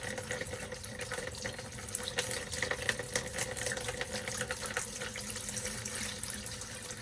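Steady rushing water runs continuously into a Fun Finder camper travel trailer's plumbing, a dense splashing flow like a faucet filling a sink, moderately quiet and unbroken with no voices.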